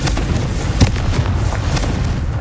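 The Confringo fire spell exploding in Hogwarts Legacy, a loud booming burst with a sharp thump followed by rumbling fiery crackle that fades out over about two seconds.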